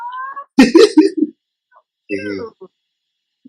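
A house cat gives a brief meow at the start during an indoor interview, followed by a burst of close talking and laughter from people in the room.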